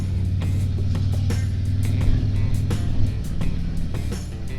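A 2021 Harley-Davidson Street Glide motorcycle cruising on the road, its engine a steady low rumble under constant wind noise, moderately loud and continuous throughout.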